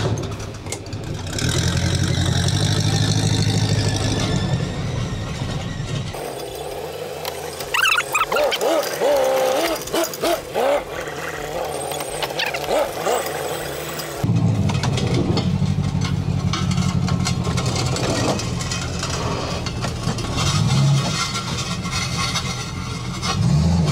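A car engine runs steadily while the vehicle is reversed into a garage, riding on a bare rim; a loud, continuous mid-low drone holds throughout, dipping briefly in the middle with some clatter before returning.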